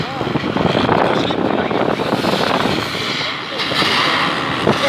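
Wind buffets the microphone in heavy rumbling gusts at a fire in Novosibirsk, swelling and easing, with muffled voices faintly underneath.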